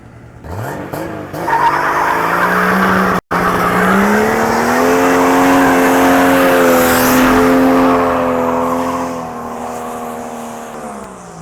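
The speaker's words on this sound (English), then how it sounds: "he's got to do a big old burnout after getting his car built here at Stay Tuned" A turbocharged six-cylinder car, basically a 2JZ, does a loud burnout, its engine revving hard and holding a high wailing pitch alongside tire squeal for several seconds before easing off.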